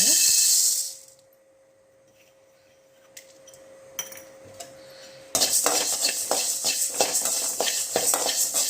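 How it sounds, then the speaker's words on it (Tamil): Coriander seeds dry-roasting in a pan for a rasam spice powder: after a quiet stretch with a few clinks, steady close stirring and scraping of the dry seeds takes over. "இப்போ மல்லியை வறுத்துடலாங்க"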